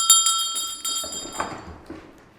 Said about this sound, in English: the teacher would pull on the rope and the bell rings